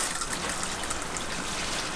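Steady broadband hiss of water spraying from an RV shower head after a water pump upgrade, continuous and fairly close with no talking over it.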